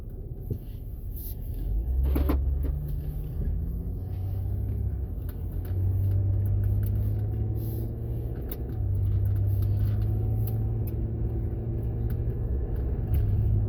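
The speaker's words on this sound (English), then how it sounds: "The motor sounds good." A 2005 Jaguar X-Type engine hums low from inside the cabin while driving, a steady close rumble whose pitch rises and falls with acceleration, with occasional light knocks and clicks from the interior.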